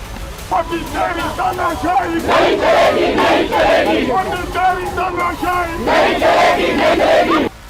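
Opposition Congress protesters at a sit-in outside the PM's residence chant slogans loudly in rhythmic unison, a dense crowd of voices rising and falling in repeated bursts that fill the whole stretch.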